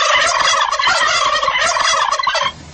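A turkey gobbles loudly in a rapid, continuous run for most of the clip, used as a sound effect in a Greek Christmas radio ad, and breaks off near the end.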